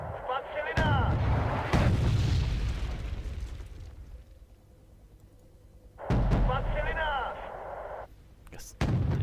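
Artillery batteries firing in the Wargame Red Dragon strategy game, heard as a few loud booming blasts with rumbling tails, the first pair close together and another later, while someone talks between them.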